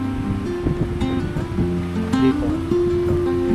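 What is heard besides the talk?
sea waves at the shore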